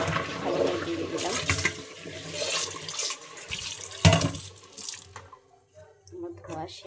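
Water runs steadily from a kitchen tap as bottle gourd and potatoes are rinsed, a continuous splashing flow with brief louder gushes that cuts off near the end, leaving quiet dripping.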